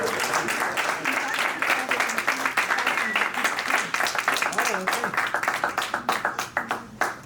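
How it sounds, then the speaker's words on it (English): A capstone project showcase audience claps for students and a successful program, dense overlapping handclaps with voices murmuring underneath, thinning to sharper individual claps toward the end. "So let's give a little round of applause to those who are here, those who have been here, to a very successful program."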